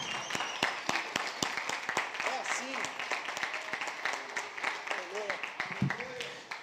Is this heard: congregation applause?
yes